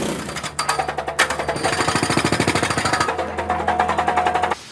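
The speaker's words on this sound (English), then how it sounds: "While the holes get drilled" A pneumatic drill boring blast holes into concrete on an urban demolition site: loud, rapid, regular hammering bursts that run on with brief pauses, close to the listener.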